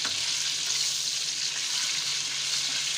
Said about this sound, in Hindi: उसमें हमने चिकन डालना है और इसको फ्राई करना है।